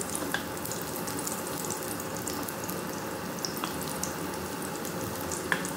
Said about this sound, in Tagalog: Mukhang mainit na. So, ilagay na natin ang ating bawang.